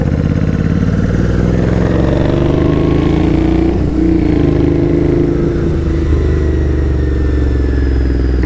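A Royal Enfield motorcycle from a Bike Shed collaboration build rides on a London road, its engine droning loudly and steadily close up with rising and falling revs and no talking.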